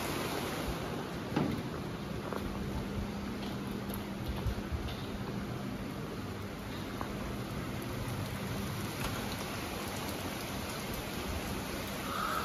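Heavy rain falls steadily on the Bandarban hills during the monsoon, a continuous dense hiss of drops on surfaces that stays even and close for the whole stretch, with no voices.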